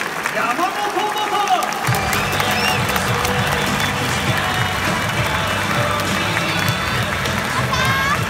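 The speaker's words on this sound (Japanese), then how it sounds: "皆さんどうぞ大きな声援でください" Loud stadium crowd at Nagoya Dome on baseball opening day cheers and applauds steadily for former Chunichi Dragons pitcher Masahiro Yamamoto, number 34, at the ceremonial first pitch, a dense sustained roar with an amplified announcer's voice over it.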